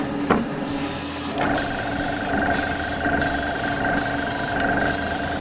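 Gloss sealer sprayed from a Molotow refill onto a primed mask surface, a steady close hiss in several long bursts separated by brief pauses.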